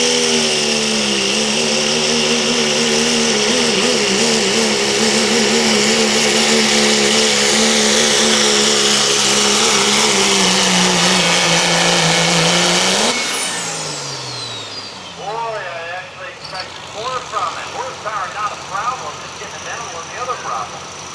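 A Dodge pulling truck engine at a truck and tractor pull roars loudly at sustained high revs, then cuts off abruptly and winds down into quieter, crackling background noise.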